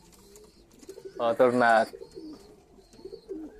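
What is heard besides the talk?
male pigeon calling, cooing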